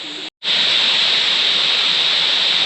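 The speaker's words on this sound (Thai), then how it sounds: "ดูน้ำตกไหลลงข้างล่างนะฮะ" Khoi Nang waterfall pours down over a rock terrace as a loud, steady hissing rush that drops out for a split second near the start and then continues unbroken, with no talk.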